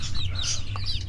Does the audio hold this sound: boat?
no